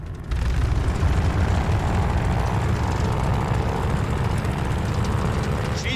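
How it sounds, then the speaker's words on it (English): A WWII propeller plane's engine runs up in Call of Duty: Vanguard, a loud, steady droning roar that starts abruptly and holds without letup, with a faint high whine riding on top. "All right, do an engine run up."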